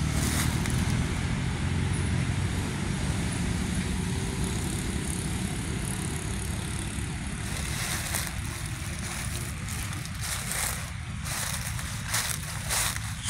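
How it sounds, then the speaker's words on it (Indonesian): Large trucks roll along a long, straight road in Semarang regency, Indonesia, producing a broad, continuous rumble of engines and tyres. The sound swells and shifts partway through as another heavy vehicle passes close by. "Banyak mobil besar-besar itu ya."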